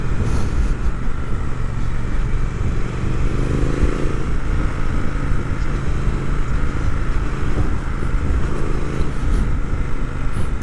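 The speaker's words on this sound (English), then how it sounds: "Let's see if there's any difference to the throttle responsiveness." A Triumph Speed Twin motorcycle runs in sport mode, its engine producing a loud, continuous rumbling drone with gentle rises in pitch as the throttle is worked, heard up close without speech.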